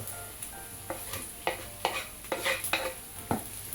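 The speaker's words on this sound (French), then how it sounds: "Je mélange." Spoon stirring beef with okra, bell pepper and eggplant in a pot, giving a series of scraping, sizzling strokes at an irregular rhythm, close and moderately loud with a steady frying hiss underneath.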